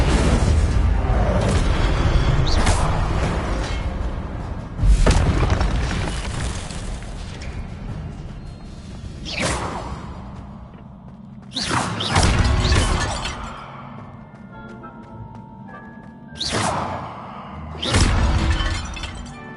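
Repeated fiery spell blasts from Hogwarts Legacy, the Incendio fire spell, erupt as loud bursting booms with crackling, shattering tails, about five separate blasts spaced a few seconds apart over a busy game soundscape.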